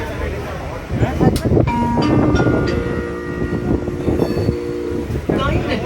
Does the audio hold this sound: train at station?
yes